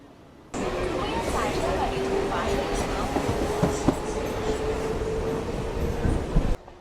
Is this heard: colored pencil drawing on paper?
no